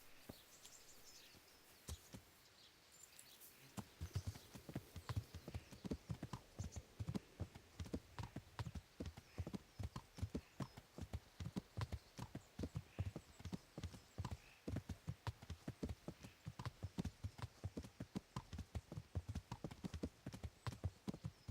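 Steady, rhythmic horse hoofbeats in the video game Kingdom Come: Deliverance clip-clop at a trotting pace for most of the clip, close and crisp, after a few seconds of quiet ambience.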